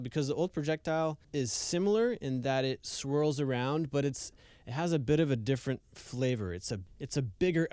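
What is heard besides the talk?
No everyday noises stand out.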